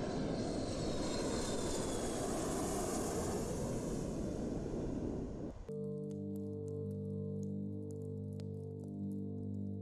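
A jet aircraft roars loudly overhead as a dense, steady rush for about six seconds, then cuts abruptly to quieter music with sustained tones.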